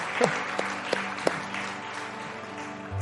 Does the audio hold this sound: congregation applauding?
yes